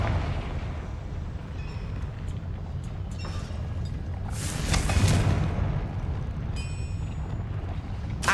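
A Confringo blasting spell bursts in the Hogwarts Legacy video game, one loud booming explosion with a bright crackling flash in the middle, set over a steady low rumble of game ambience, with no talk.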